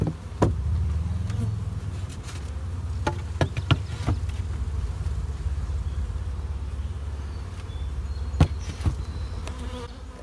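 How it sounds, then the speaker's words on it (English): Honey bees buzz inside a honey super taken from a beehive: a steady low drone from a few bees, close by, with occasional sharper buzzing passes and light knocks, and no voices. "There's maybe half a dozen bees in here."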